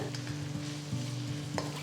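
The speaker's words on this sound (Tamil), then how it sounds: "வெங்காயத்தை நல்ல ஒரு கோல்டன் ப்ரௌன் கலர் வர வரைக்கும் வதக்குங்க" Onions sizzling in a pan until golden brown, with a steady crackle and occasional scraping stirs, close and fairly quiet, no voices.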